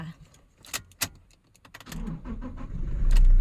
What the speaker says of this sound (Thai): เดี๋ยวลองสตาร์ทกันดูค่ะ